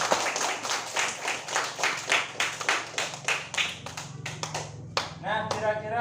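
A class of schoolchildren clap their hands together in a steady, fairly loud rhythm of repeated claps, with a few voices chattering near the end.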